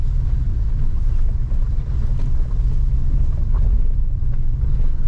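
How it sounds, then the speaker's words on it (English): A Hyundai Creta 1.6 petrol automatic rolls over a tight gravel mountain road, filling the cabin with a loud, constant low rumble of engine and tyre noise with small crunches and bumps scattered throughout. "tarmac has given way to this not loose but tight gravel road"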